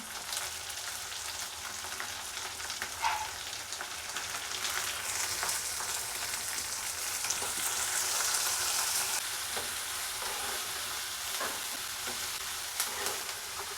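Onions sautéing in oil for drumstick kuzhambu, an even, continuous sizzle with soft stirring scrapes, swelling slightly midway, close and free of talk.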